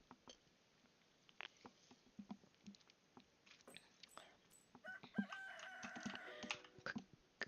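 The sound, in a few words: rooster crowing in Stardew Valley video game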